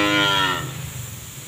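A single long, loud cow moo rings out at a cattle farm selling newly arrived bulls, lasting about half a second before fading into a low background.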